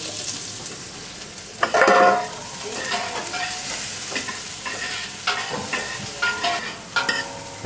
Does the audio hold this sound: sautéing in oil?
yes